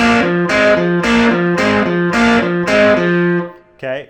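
An electric guitar plays a minor double-stop riff, six loud, evenly spaced two-note stabs in a repeating rhythm, then a brief different chord, with no talk over it.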